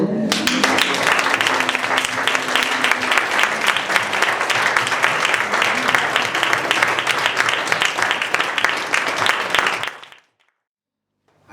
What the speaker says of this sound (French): Est-ce qu'on peut applaudir notre Seigneur?